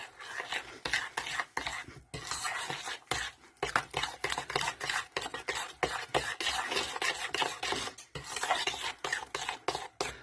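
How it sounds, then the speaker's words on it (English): A spoon or whisk stirs a batter-like mixture with a pinch of salt in a home kitchen bowl, making steady rhythmic scraping and rubbing strokes. The sound is close, with no talk during the clip. "just a pinch of salt. And then I'm going to mix this together."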